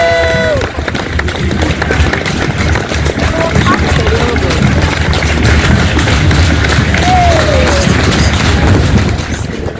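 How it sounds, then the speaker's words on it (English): Crowd of spectators cheering and applauding along the route of a VE Day 80th anniversary military procession, a steady broad roar that stays loud and continuous throughout, with speech mixed in. "Spectators cheer and applaud."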